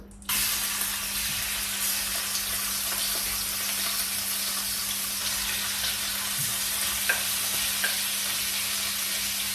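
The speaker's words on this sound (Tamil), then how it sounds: "இந்த வாழை போட்டு பொரிப்போம்" Sliced plantain frying in hot oil, a loud, steady, close sizzle that starts abruptly and continues with a few faint pops and clicks.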